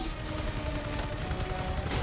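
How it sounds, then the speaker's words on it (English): Dense gunfire in the Spider-Man 2 video game, a continuous rattling barrage of overlapping shots that stays loud throughout with no voices. "charge and avoid gunfire"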